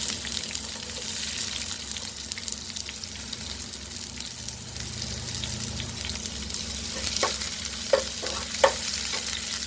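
Onions fry in a pan for a fenugreek-leaf stir-fry, a steady close sizzle with continuous stirring scrapes and a few light metallic clinks toward the end.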